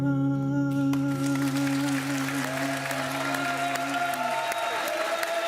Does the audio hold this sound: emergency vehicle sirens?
no